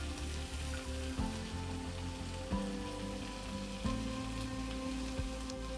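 Crushed garlic and beef frying in butter in a pan, a steady soft sizzle and crackle with a few sharp spits and pops, quiet and close, no voices.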